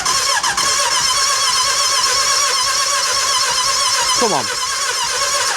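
A Suzuki Hayabusa motorcycle engine fitted in a Nissan K11 Micra trying to start without choke: a continuous loud churning, cranking and whining roar with a falling squeal near the end, while a person speaks briefly over it.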